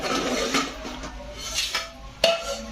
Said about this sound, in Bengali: মা এখন এটা ঢাকনা তুলবে এখন